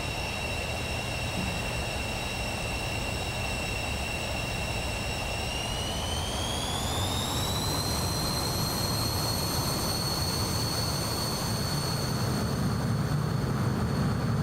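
An F-18 jet engine idles on a runway in Microsoft Flight Simulator 2024, a steady loud roar with a high whine that rises in pitch partway through and then holds.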